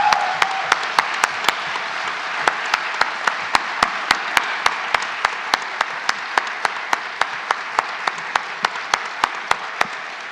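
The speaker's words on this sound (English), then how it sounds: "Let's give them a round of applause" Moderate applause from the audience at a congressional district candidates forum, a steady patter of many hands with distinct individual claps standing out and no talking over it.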